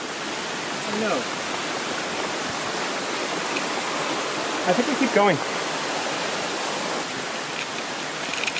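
A river rushes steadily beside a hiking trail, a constant broad wash of flowing water heard close by throughout, with people talking briefly over it.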